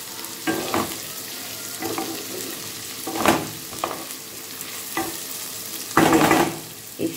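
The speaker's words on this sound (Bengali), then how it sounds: "এই সবজির সাথে ডালটাও ভাজা হয়ে যায়, ডালটা একটু ভাজতে লাগে।" Dal being fried and stirred together with vegetables in a pan for vegetable daliya khichuri: a steady low sizzle with repeated scraping stirs, several louder strokes near the close.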